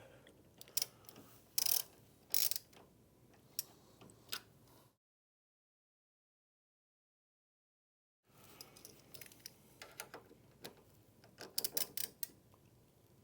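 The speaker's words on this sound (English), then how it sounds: "take an 1/8 inch Allen" Small metallic clicks and ticks from a 1/8 inch Allen key tightening the two set screws on a buffer brush bearing of an IKON floor machine, in short close bursts separated by a stretch of silence.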